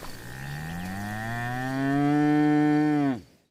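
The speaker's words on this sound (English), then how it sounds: "And indeed, we saw a lot of cows." A single cow on a Texas ranch gives one long, loud moo that rises in pitch and swells before cutting off abruptly, close and clear with no talk.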